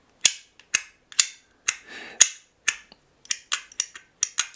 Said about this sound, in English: The sound of this guy is this.